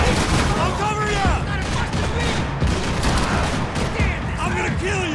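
Gunfire in the video game Max Payne 3 during a gang shootout, with slow-motion moments: a dense, sustained volley of loud shots layered with game sounds and voices talking.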